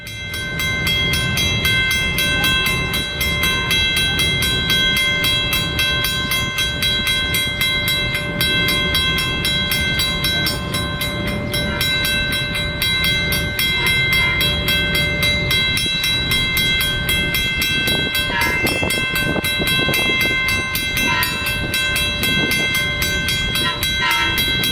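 A Long Island Rail Road train, number 6057 bound for Jamaica, rolls through a station with a steady, loud rumble and rail noise lasting throughout, with a few brief clattering accents near the end.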